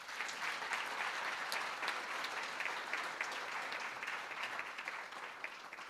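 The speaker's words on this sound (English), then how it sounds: "give her a big round of applause" The audience at a public lecture at the University of Limpopo gives the speaker a big round of applause, an even, sustained patter of many hands, soft and somewhat distant, with no speech over it.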